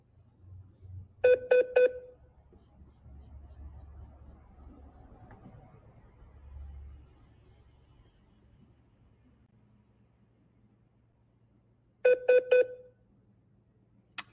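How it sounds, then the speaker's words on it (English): Telephone keypad tones ring out as the user dials from a phone, a quick burst of four clear beeps near the start and a second matching burst of four near the end, with low background hum and murmur between. "The beeping's going to drive me crazy."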